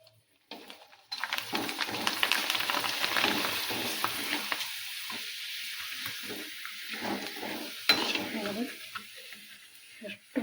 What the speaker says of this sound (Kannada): ಈಗ ಹಪ್ಪಳ ಕರಿತೀನಿ ನೋಡ್ರಿ